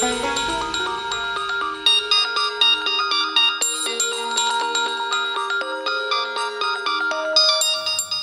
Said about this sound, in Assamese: কি হ'ল ইমান সময় লাগেনে ফোনটো উঠাওঁতে